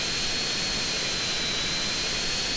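Military jet in GTA San Andreas flying along: a loud, continuous roaring engine whoosh with a steady high whine that holds evenly throughout, with no talking.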